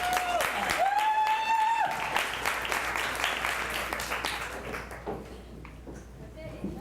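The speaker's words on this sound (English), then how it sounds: "Let's have a round of applause for our tech people." Clapping from a live concert podcast audience honoring the tech crew, starting loud and thinning out gradually, with a voice calling over it near the start.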